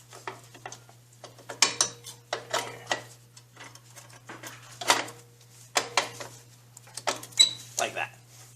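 Drum brake shoes and their spring being fitted and pushed together make a series of close metallic clicks, clanks and scrapes in irregular bursts over a low steady hum.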